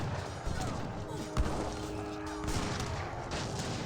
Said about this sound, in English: The fort is firing away.